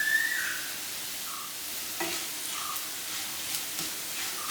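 Spices, turmeric and chili powder, frying in hot ghee for a lentil curry, giving a soft steady sizzle with a few light stirring scrapes, close and fairly quiet, with no talking.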